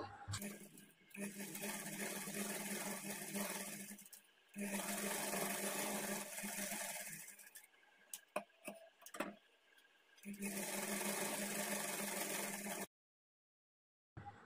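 A sewing machine stitches a half-inch folded edge on a blouse in three steady runs, separated by pauses filled with clicks and handling noise, then cuts off abruptly.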